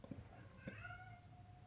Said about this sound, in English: Sorry, can you hear my cat?